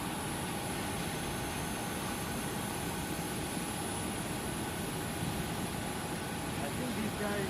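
Steady broadband roar of a distant departing jet airliner at Phoenix Sky Harbor International Airport, unchanging and faint, with a voice talking softly beneath it.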